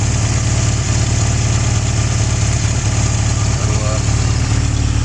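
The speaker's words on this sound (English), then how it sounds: "here it is, it's idling nicely, no choke needed" A Fiat X1/9 engine idles steadily and loudly without choke, with a low, even rumble that stays constant throughout.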